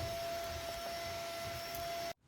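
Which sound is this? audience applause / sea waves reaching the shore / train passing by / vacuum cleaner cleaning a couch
vacuum cleaner cleaning a couch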